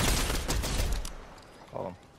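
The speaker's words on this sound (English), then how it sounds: "Someone's shooting at me though." A burst of rapid gunfire in the Fortnite video game, loud at first and then fading out, followed by a short softer sound near the end.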